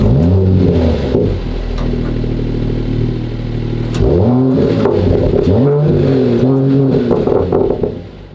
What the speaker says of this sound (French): En ce qui concerne l'échappement, on est sur un échappement d'origine AMG,